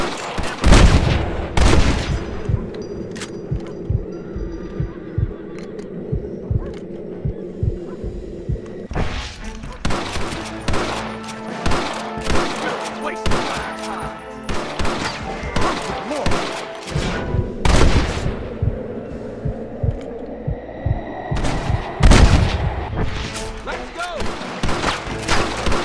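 Gunfight against snipers in a window in the video game Red Dead Redemption: repeated close gunshots and heavy booming fire crack in dense volleys throughout, with shouting voices mixed into the chaos.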